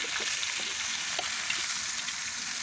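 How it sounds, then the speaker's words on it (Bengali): Continuous crackling sizzle of salted, turmeric-coated sea fish (amude and saiting) frying in hot oil, close and steady, with small pops scattered through. "ভাজা ভাজা করে নেব"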